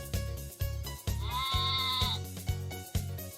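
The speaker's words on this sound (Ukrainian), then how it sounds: "Це коза." A farm goat bleats once in a single sustained call mid-clip, with rhythmic background music throughout.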